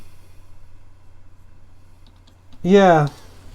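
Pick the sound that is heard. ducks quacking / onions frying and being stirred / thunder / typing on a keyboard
typing on a keyboard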